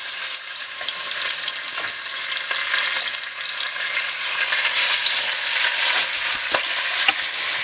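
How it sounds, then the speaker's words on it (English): Pork chops sear in a hot pan with a steady, loud broadband sizzle that holds evenly throughout, joined by a few faint clicks and scrapes of stirring. No voices are heard. "you're going to sear the pork chops right into the hot pan"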